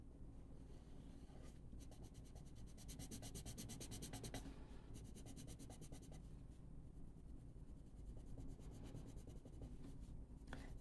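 Inktense coloured pencil, in a green aquamarine shade, scratching and rubbing across paper in steady close strokes with a slightly waxy drag, with short pauses between bursts of shading.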